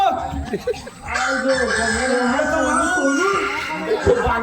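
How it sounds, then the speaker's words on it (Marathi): A rooster crows nearby, a drawn-out rising and falling call, with people talking around it. "तिकडे कोंबडा एक आरवतोय"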